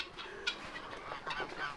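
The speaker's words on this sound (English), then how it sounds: "the ducks and geese are out. And here they come." Ducks and geese let out of their pen on a farm honk and quack in faint, scattered bursts at a moderate distance.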